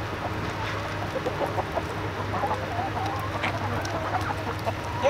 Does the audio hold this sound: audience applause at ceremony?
no